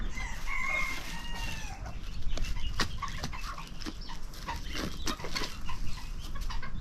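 Ducks (bibi) on a farm chatter and quack in a busy cluster while feeding, with steady low background noise and occasional sharp pecking sounds.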